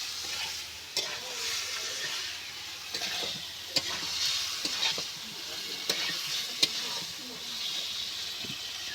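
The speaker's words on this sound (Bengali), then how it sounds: "এবার আমি পরিমাণ মতো জল দিয়ে দেবো।" Fish curry sizzles and bubbles steadily in a frying pan as water is added, with the occasional clink of a stirring spoon against the pan, all fairly quiet and without talk.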